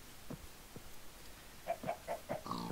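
Chickens clucking in the video game Minecraft: a few faint low grunts followed by a run of four or five short, close, rhythmic clucks, heard alone without talk.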